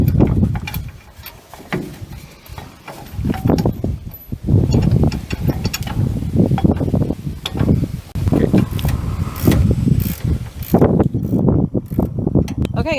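A wrench tightening 3/4 inch bolts on a Baer 6P brake bracket, giving repeated close ratcheting clicks and metallic mechanical rattles over about thirteen seconds, with some wind noise.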